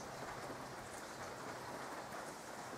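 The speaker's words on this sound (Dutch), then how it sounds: "Het regent wel." Steady, dense rainfall pattering continuously at a campsite, heard alone without voices, soft and fairly distant.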